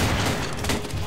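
Rapid gunfire in the video game Trouble in Terrorist Town, a dense, loud burst of shots filling the whole moment with no pauses.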